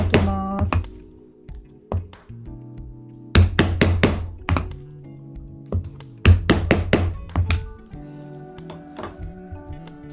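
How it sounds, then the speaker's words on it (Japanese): Sharp hammer blows drive a pronged stitching chisel through leather for a simple card case, landing in close clusters of several strikes with short pauses, loud and near, with no talk. "締め打ちで穴を開けますが"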